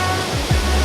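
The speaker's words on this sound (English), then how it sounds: "We have returned to Helgufoss waterfall, which is just 30 minutes away from Reykjavik" Rushing, constant roar of Helgufoss waterfall in southwest Iceland, a dense broadband wash of falling water with a brief low thump midway through.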